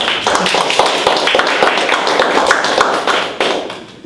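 Audience clapping after a presentation, a dense burst of many hands applauding at close range that holds steady and then fades out near the end.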